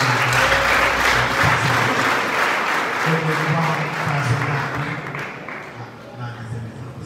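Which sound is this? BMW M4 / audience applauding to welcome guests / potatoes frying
audience applauding to welcome guests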